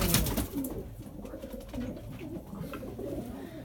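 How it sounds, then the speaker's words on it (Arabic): Racing pigeons coo in a modest home loft, soft repeated throaty calls rising and falling close by, with a faint rustle at the start. "حمام تبارك الله من الطراز العالي"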